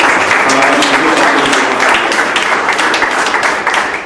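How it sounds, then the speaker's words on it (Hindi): An audience at a Hindi-language talk breaks into loud, dense applause, a sustained wash of many hands clapping at once that holds for several seconds before tapering slightly. "एक बार अपने लिए जोरदार ताली बजाएं।"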